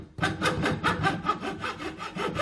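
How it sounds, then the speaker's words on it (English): Fine sandpaper rubbing wooden plugs flush on a tough hardwood surface during a synth and effects rack build, a steady rhythmic back-and-forth scratching of about a dozen even strokes, close and clear with no talking. "a light sand with some fine sandpaper will sort that out"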